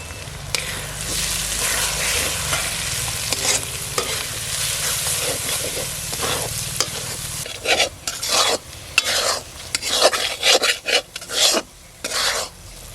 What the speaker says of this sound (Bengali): মশলাটা খুব সুন্দরভাবে ভেজে নিয়েছি